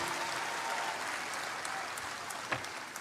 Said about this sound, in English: I think that requires a round of applause for all of us